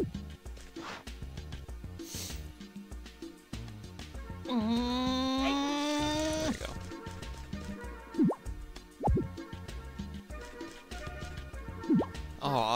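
Crops being watered in Harvest Moon Magical Melody, short soft drip and splash sounds landing at intervals under cheerful game music with a bleating animal call midway, fairly quiet and without talk.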